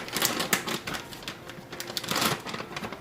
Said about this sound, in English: Alright, so we're just going to use the scissors. Open this up.